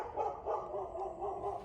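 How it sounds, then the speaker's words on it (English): A big dog barks in a backyard, four or five evenly spaced woofs in quick succession, fairly close and clear with no talk over them. "So my goodness, big boy barks."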